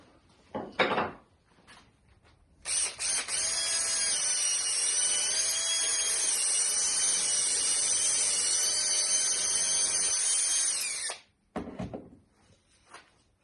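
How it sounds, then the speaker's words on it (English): A power drill fitted with a buffing wheel whines steadily for about eight seconds with a bright, high-pitched buzzing tone, polishing the center of a segmented wood bowl, with brief scraping clatter before and after. "I actually have a little buffing wheel that will buff out the center just a little bit"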